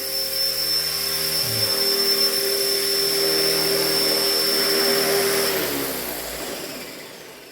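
A Blade 330S RC helicopter running on a test after repair, its rotor and motor giving a loud, steady whine close by that holds evenly and then winds down near the end.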